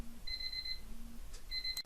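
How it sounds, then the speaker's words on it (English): A kitchen timer alarm beeps in two short bursts of rapid, high electronic pips separated by a pause, set against a quiet indoor room with a faint low hum. "That's a timer."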